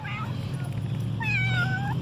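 A pet cat outdoors meows twice, a short cry then a longer rising and falling one, close to the listener over a steady low hum and background noise, likely rain.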